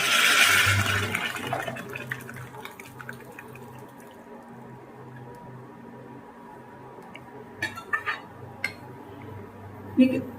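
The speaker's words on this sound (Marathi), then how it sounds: "मी त्याच्यात डाळ घालून घेऊ." Cooked dal poured into a pan of onions for a rustic amti, a wet pouring and sloshing at the start, then low sizzling with clinks of a utensil against the pan while someone talks.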